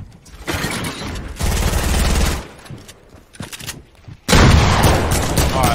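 Video game gunfire erupts in loud automatic bursts, rapid fusillades that stop and restart, with a sharp heavy volley near the end.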